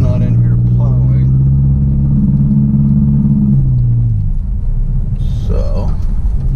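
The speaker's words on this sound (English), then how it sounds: "because this car is fucking loud" A loud Subaru engine rumbles and drones steadily up close on a snowy day, its deep low tone running through the clip while a voice talks over it.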